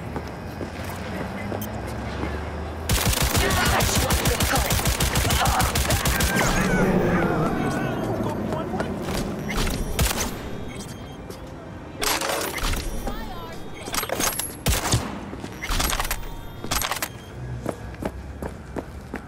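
Rapid bursts of gunfire in the video game Cyberpunk 2077 crackle loudly and densely, followed by scattered sharper shots, with voices talking throughout.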